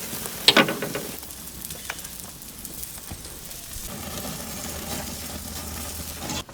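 A Wagyu picanha steak sizzles steadily on a grill, opening with a sharp clack from the tongs or the grate, then a continuous close hiss and crackle throughout.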